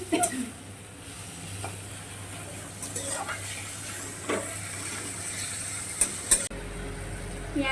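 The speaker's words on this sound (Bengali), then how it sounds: "পেঁয়াজ টমেটো ভাজা হয়ে গেছে" Onions and tomatoes frying in a pan with salt, turmeric and chili for a Bengali paneer rice dish, a soft steady sizzle under light stirring scrapes and a few sharp utensil clicks near the end.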